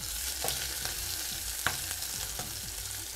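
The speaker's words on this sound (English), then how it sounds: "let my onions here saute for about another minute or so" Onions sauté in a pot with an even, close sizzle, broken by several scraping stirs and a few light clicks of a utensil, with no one talking.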